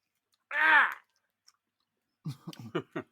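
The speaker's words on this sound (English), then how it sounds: "Some nice chewing dead air we got going on here." Crunchy chewing of Razzles candy close to the microphone, a burst of mouth noise followed after a pause by several distinct wet crunches in quick succession, with no talking.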